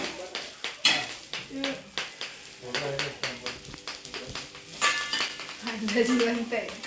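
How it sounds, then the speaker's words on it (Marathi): Chopped onion sizzling and popping in a pan of hot oil over a wood-fired stove while mutton is cooked, with sharp bursts of crackle and metal clinks against the pan, as people talk throughout. "कांदा जिवंत आहे बघा बळबळतोय कांदा बघा उडतोय"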